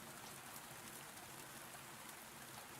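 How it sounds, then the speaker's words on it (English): Steady rain in the horror video game Reveil, a dense, even hiss of falling water that runs without a break, faint and uniform with no voices over it. "Oh, I hear rain."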